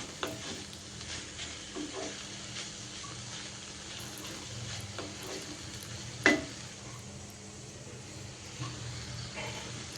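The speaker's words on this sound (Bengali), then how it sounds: "তো লাউটাও তো নাড়াচাড়া করে এরপর ঢেকে দিব।" Bottle gourd and chopped carrot are stirred in a frying pan. Soft, faint scraping and shuffling stirs are heard over a low background, with one sharper clink of the utensil midway.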